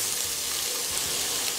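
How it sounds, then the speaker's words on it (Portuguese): Chopped onion hits hot olive oil in a cooking pot and sizzles steadily, a bright, even hiss lasting the whole moment with faint stirring beneath, close and moderately quiet, no talking. "Eu vou acrescentar a cebola"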